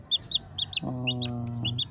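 A chicken clucks close by, a few short high calls followed by a longer, drawn-out squawking cluck.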